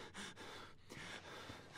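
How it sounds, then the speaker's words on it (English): Heavy, ragged breathing from a frightened player character in the horror game Outlast, quick panting gasps and sharp inhalations close up, alone and quiet. "why the fuck is my guy breathing so heavy?"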